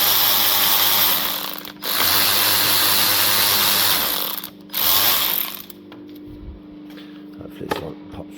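A ratchet works on the rocker cover bolts of a Honda VTR1000F engine, giving sustained close mechanical clicking in bursts separated by brief pauses, followed by quieter handling noises.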